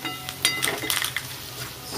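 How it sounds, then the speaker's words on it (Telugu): Onions and ginger paste fry in a pan with a soft, steady sizzle, broken by a few light clinks of a utensil against the pan close by. "ఆనియన్స్ చాలా వేసాను కదా, అది దగ్గరికి చూడండి ఎంత బాగా ఫ్రై అయిందో"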